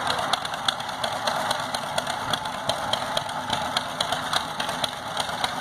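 A 1941 John Deere H tractor, brought back from a stuck engine, running with a steady close chugging two-cylinder beat and a continuous mechanical rattle, no voices.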